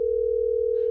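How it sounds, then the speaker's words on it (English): A single steady telephone tone sounding on an outgoing call, held at an even pitch for under a second before a brief burst of faint noise at the end. "Let's see if we can hear it ringing."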